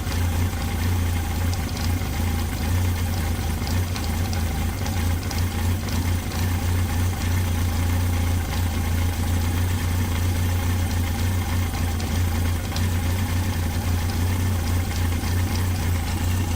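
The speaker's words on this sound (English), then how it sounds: "just listen to the engine sound" An XJ 900 F engine idles steadily during carburettor adjustment, a constant low, even rumble heard close up with no talking.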